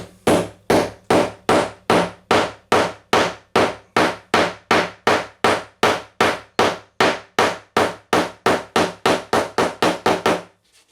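Steady hammer blows drive fasteners into wood while an arcade cabinet is built, around two dozen evenly spaced, loud, close strikes in a fast regular rhythm with no talk.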